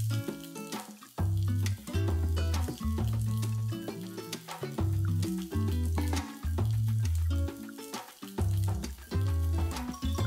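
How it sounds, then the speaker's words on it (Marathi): Dadpe poha snacks fry in a pan with a steady, hissing sizzle that runs throughout beneath louder background music. "एका साईडनी आपण ऑलमोस्ट 2 ते 3 मिनिटं गोल्डन फ्राय करून घेतलेले"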